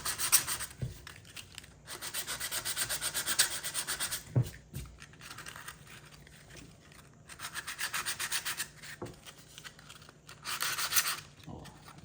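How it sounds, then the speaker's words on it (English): Sandpaper rubs back and forth over rust on a snowboard in bursts of harsh scraping strokes, with quiet gaps and a few light knocks between them. "Let's go to the sandpaper again."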